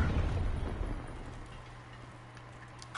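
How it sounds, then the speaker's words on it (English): A Hellstorm missile strike from Call of Duty Black Ops 3 erupts loudly at the start, its deep rumbling blast fading over about a second into a low hum, then a short sharp burst at the end. "Hostile hellstorm inbound."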